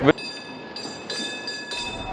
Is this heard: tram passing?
yes